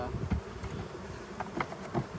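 Honeybees at a beekeeper's hive in May hum in a steady, dense buzz close by, with individual bees swelling louder as they pass.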